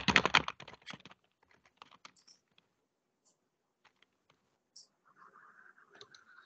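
A computer keyboard is used to type a layer name in mapping software. A quick burst of close key clicks comes first, then sparse, faint taps and clicks follow in a quiet room.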